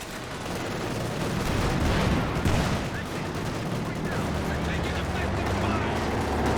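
Company of Heroes 2 battle with a Panzer IV firing on a Sherman tank amid rifle fire: dense rattling gunfire and booming shots over a rumbling backdrop, with a commentator talking over the action.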